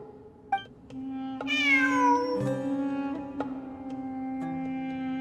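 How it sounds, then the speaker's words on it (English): Cat meows in the video game Genshin Impact, a few rising and falling calls with a long tonal wail in the middle, heard clearly over a steady low game hum with no talk. "It really is a cat."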